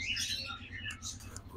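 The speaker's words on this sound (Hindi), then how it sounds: "ये ग्रीन रिंगनेक के और पेयर आए हैं" Green ringneck parakeets at a bird market give a few sharp, shrill squawks and chirps in quick succession, close by over a low background hum.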